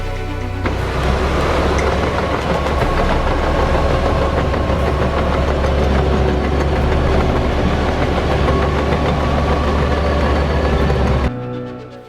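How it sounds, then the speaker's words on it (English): Bulldozer and excavator engines running together on a backyard golf green construction site, a loud steady diesel drone and rumble that holds for about eleven seconds, then cuts off abruptly. "Now you might notice two pieces of equipment running, the bulldozer and the excavator."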